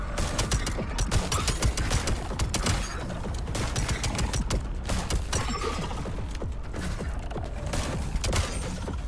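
Rapid gunfire from a pistol modified to fire like a shotgun in a video game demo, a dense run of loud, sharp cracks and mechanical clatter across the whole stretch with no pauses.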